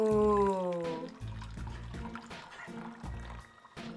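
Hot water poured into a cocktail with dill, a short splashing pour with liquid sounds beneath a tonal hum and intermittent thumping music.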